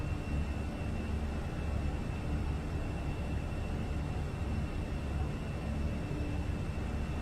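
Airliner engines at thrust climb in a flight simulator make a steady, even roar with a faint high whine that holds unchanged throughout, heard alone.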